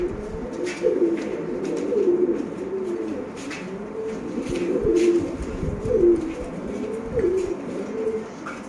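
Pigeons of a breed sold in Sialkot coo steadily in soft, rolling, repeated calls close by, a continuous murmuring rhythm over light background noise.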